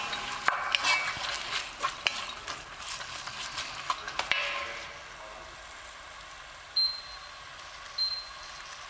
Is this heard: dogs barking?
no